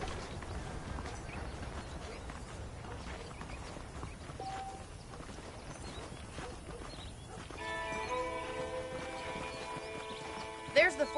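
Horse hooves clip-clop at a steady walking rhythm amid ambient outdoor sound in the video game Red Dead Redemption, followed by a soft musical tone and a brief snort near the end.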